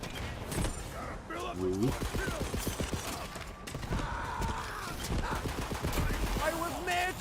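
Gunfire from the video game Borderlands 3, rapid bursts and shots crackling over a busy mix, with a voice calling out over the shooting.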